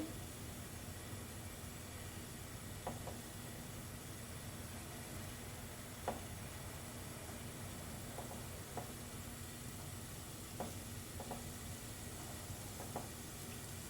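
Dahi vada batter sizzles in hot oil in a kadai over a medium flame, a steady soft frying hiss broken by occasional faint pops and clicks.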